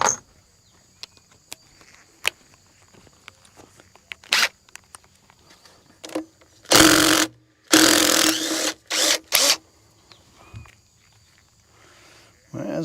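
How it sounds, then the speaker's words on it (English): A small power driver removing a short bolt on a 2000 Freightliner Classic truck, several loud close whirring bursts of one to two seconds with quiet pauses between, along with faint clicks and handling noises. "I don't believe this little driver can handle it, but I'll give it a try"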